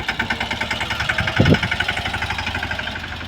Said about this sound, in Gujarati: ટ્રેક્ટર પુગાડી દીધું હેઠે રિવેશમાં લઈને દબાવશે પાછા